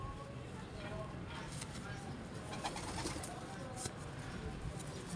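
A pigeon with clipped wings coos softly and repeatedly at close range, low and muffled, while someone talks over it.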